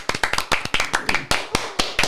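Sharp hand claps ring out in an uneven burst of about fifteen, some quick doubles, loud and close with no talk.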